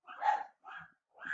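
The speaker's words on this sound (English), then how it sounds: "My dogs are barking." Three short bursts of dog barking, close by, separated by brief pauses.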